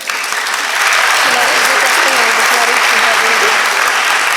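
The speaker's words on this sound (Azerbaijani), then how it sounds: "Zəhmət olmasa xanımları da biraz canlı alqışlayaq." A crowd at a women's ICT day event applauds, loud sustained clapping swelling after the first second, with a voice speaking over it.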